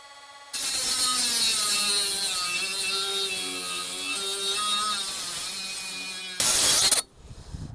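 Power tool cutting away material on a 1973 Harley Sportster seat: a sudden high whining grind that runs steadily for several seconds, pitch wavering under load, ending with a short harsher burst before stopping.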